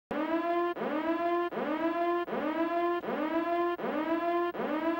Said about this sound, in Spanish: Algo similar ocurre con la alarma de la misión, Black Project, cuando nos infiltramos en la base militar